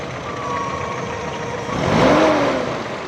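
A 1982 Toyota Corolla engine running with a misfire and slight jerking, a loud, close mid-pitched engine drone that swells into a brief rev near the end.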